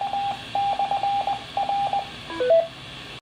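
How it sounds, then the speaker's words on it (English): Ham radio repeater transmitting a run of steady single beep tones in short bursts, then a quick rising sequence of stepped tones, moderately loud over a faint hiss with no talk. "That's the repeater you're hearing right there."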